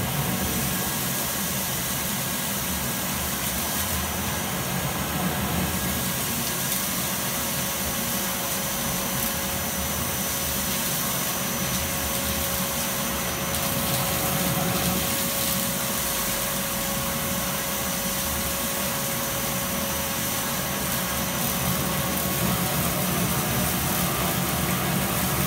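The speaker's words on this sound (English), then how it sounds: "I've hoovered up all that pile of dust." A cyclone dust extractor hoovers up a pile of workshop dust, giving a loud, steady roaring suction with a constant whine running unbroken throughout, no talking over it.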